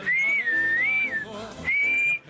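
Someone whistles a clear, sustained melodic tune in two phrases separated by a short breath, close and loud with no talking.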